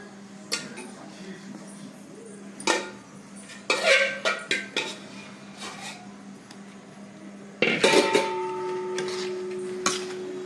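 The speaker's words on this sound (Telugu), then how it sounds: "ఇప్పుడు మనము మన యొక్క రేగిపళ్ళు ఇందులో వేసేసుకోవాలి." Jujube pachadi is mixed in a bowl, with a few scattered clinks and scrapes of a spoon against the dish and a quick burst of clattering mixing near the end, faint hum in the background.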